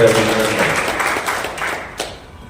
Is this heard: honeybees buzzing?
no